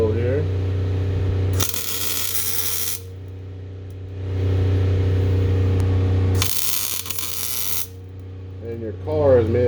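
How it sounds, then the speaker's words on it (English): Gap welding on a galvanized car body inside a closed garage, with a loud generator droning steadily throughout; two bursts of harsh, crackling weld sputter, each lasting a second or two, stand out above the hum. "A little bit of a gap weld here."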